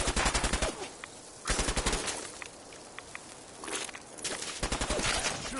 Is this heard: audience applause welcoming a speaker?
no